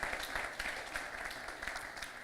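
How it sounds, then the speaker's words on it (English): Audience applause in a student gathering, a dense, fairly faint wash of many hands clapping continuously without pause or talk. "A round of applause for that, please."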